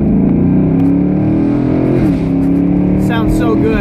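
A 50th Anniversary Camaro SS Indy Pace Car convertible engine drones loudly and steadily from inside the cabin, with a brief dip as a gear changes via the paddle shifter, and a voice is briefly audible near the end.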